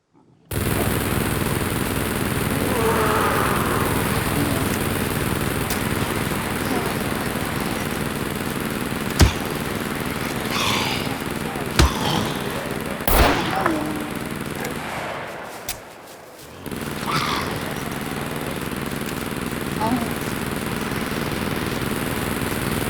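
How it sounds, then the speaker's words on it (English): Minigun in the video game Scum firing at standing targets, a dense sustained mechanical roar from close by, broken by a few sharp cracks and a brief drop-out partway through. "they definitely have to improve the minigun"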